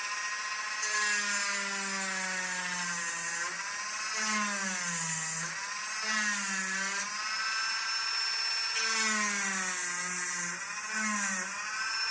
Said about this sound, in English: now we just need to get a Dremel bit and extend that out to that kind of shape